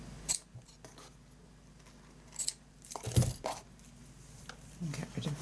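Scissors snip the tails on a handmade paper gift box, giving a few quiet, sharp cuts spread over several seconds with soft handling noise between them.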